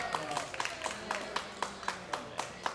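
An audience claps along to cheer on contestants at a live show, a steady rhythmic clap roughly every quarter second, moderately quiet and slightly distant, with faint talk in the background.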